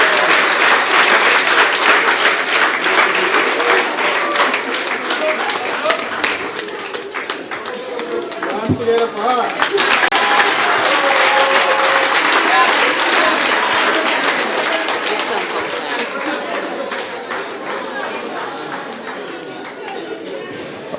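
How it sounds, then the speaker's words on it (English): Sustained applause from an audience at an end-of-year staff retreat award ceremony, dense and steady for about twenty seconds, with voices and chatter mixed in. "Can we give a round of applause?"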